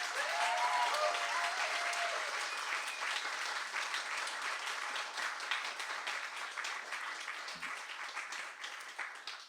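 A large audience applauds in a warm welcome for authors Sarah Gailey and Mallory O'Meara at a Skylight bookstore event. The clapping is dense and sustained, loudest at the start and easing slightly over about nine seconds.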